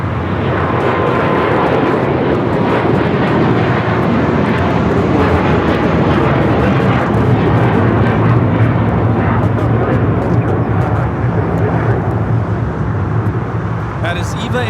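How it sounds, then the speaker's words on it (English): An EVA Air Boeing 777-300ER bound for Taipei takes off at Los Angeles airport, its jet engines giving a loud, sustained broadband roar that holds steady for the whole stretch. "That is EVA Air Flight 5 taking off to Taipei on the 777-300 ER"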